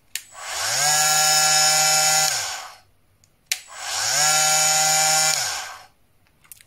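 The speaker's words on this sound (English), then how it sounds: "And I noticed it has a soft start, which is kind of cool." An Einhell Varrito cordless multifunction tool soft-starts twice, each run ramping smoothly up to a high, steady motor whine, holding for a couple of seconds and then winding down, with a brief click at each start and a quiet gap between runs.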